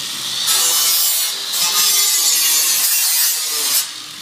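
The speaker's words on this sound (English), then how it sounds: "He's going to start by just using the grinder and showing you some things." An angle grinder working titanium scrap metal gives a loud, continuous high-pitched hiss and whine, easing slightly midway and at the end, with no talking.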